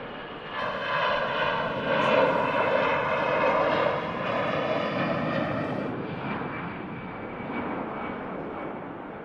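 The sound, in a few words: EasyJet jet airliner taking off at Manchester Airport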